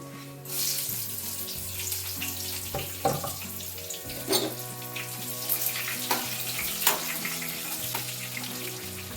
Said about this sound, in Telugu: ఆనియన్స్ వేసేద్దాం